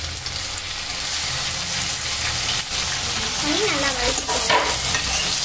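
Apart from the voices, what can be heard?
fish curry (meen kuzhambu) boiling and frying in a pan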